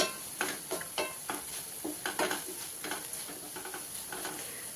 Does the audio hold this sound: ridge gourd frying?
yes